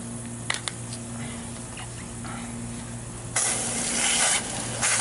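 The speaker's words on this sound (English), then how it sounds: "Sorry for the constant noise of the hose in the background." A garden hose runs steadily while soil is rinsed off the roots of a repotted Christmas cactus, a constant close spray hiss that grows louder and harsher partway through.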